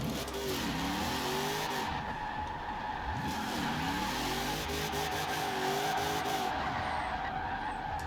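Engine revving hard with repeated tyre skids and squeals as a tuned car drifts in Forza Horizon 4, loud and continuous throughout with surging pitch sweeps.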